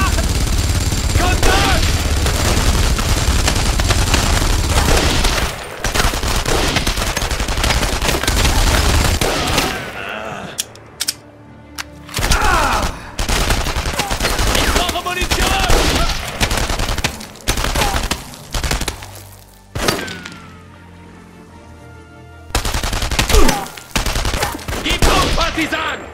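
Loud, dense gunfire from the World War II shooter game Enemy Front during a French Resistance mission: continuous rapid automatic fire at first, then separate bursts broken by short lulls.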